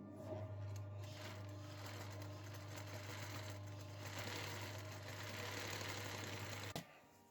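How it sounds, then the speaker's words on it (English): A sewing machine stitches a single line around the neckline of a dress made from an upcycled tablecloth, running as a steady, quiet motor hum with fast needle chatter before stopping abruptly near the end. "I'm going to do a single stitch all the way around the neck and use that as a guide to fold it in."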